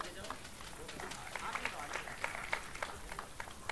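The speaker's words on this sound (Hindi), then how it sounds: "नमामि मिश्रा के लिए ताली बजाइए" An outdoor audience at a street play performed for a cleanliness campaign gives an actor a round of applause, faint and diffuse clapping under a loud, continuous crowd murmur.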